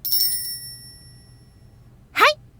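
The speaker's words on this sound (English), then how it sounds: "Satsuki rang a bell to indicate the maid competition was over." A handbell rung once to close a maid competition in the horror game Corpse Party, a bright ringing strike at the start that fades away, followed by a short rising voice sound near the end.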